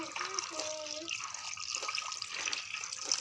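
Tap water running and trickling into a container to soak kerupuk crackers for seblak. A light, continuous splashing flow, fairly close, with a brief voice murmuring early on.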